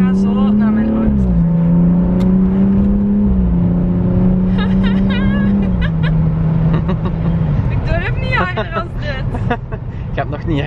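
Car driving on a road at around 100 km/h with a steady engine hum that shifts in pitch as it changes speed, heard close from inside, with people talking over it.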